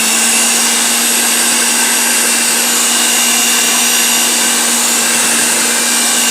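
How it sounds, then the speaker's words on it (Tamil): Electric whisk beating egg whites in a glass bowl for a vanilla cake, a loud, steady high-pitched motor whine running continuously without pause. "இப்போ வந்து எலக்ட்ரானிக் விஸ்க் வச்சு இதை கொஞ்சம் பீட் பண்ணலாம்."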